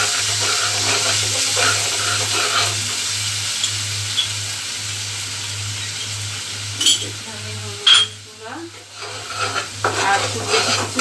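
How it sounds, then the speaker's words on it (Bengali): Spice paste with salt and turmeric frying in a pan for a chickpea curry, a steady sizzle under repeated stirring and spatula scrapes, with a louder clatter near the end. "এই যে মশলাটা মোটামুটি কষানো হয়ে গেছে, মশলাটা ভাজা হয়ে গেছে"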